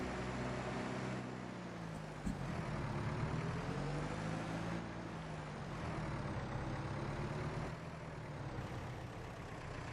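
A Mercedes vehicle engine in Farming Simulator 22 runs with a steady low rumble and an idling drone for the whole stretch, with one brief sharp knock early on and small shifts in pitch, loud and close.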